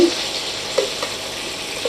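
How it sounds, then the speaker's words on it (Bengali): Bhetki fish bones fry in oil in a pan, a steady close sizzle with a few soft spatula clicks and stirring taps, no voices. "কাঁটাগুলোকে ভালো করে একটু ভেজে নেব।"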